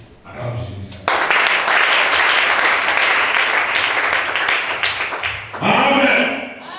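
A church congregation at a worship service breaks into loud, sustained applause and cheering that fills several seconds, with voices before and after.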